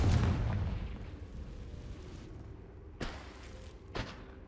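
Confringo fire spells from Hogwarts Legacy burst with a heavy boom at the start, then two sharper blasts follow about a second apart, each trailing into a low rumbling tail over steady game ambience.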